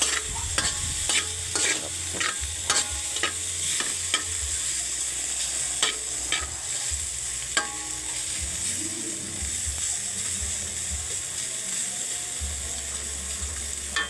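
Spring onions stir-fry in a pan, giving a steady sizzle under repeated rhythmic scraping and clacking of a spatula against the metal, going on for several seconds with no talking.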